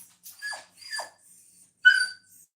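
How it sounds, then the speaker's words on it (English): A dog makes a few short, faint yips and whimpers indoors at night, spaced apart with silence between them, the last one sharper and louder. "What are you barking at?"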